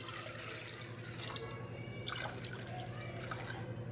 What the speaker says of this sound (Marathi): थोडं भरपूर पाणी घाला